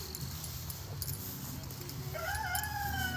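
Battery hens on a Dutch farm cluck and call in rising, warbling notes that grow clearer toward the end, over a steady outdoor background hum.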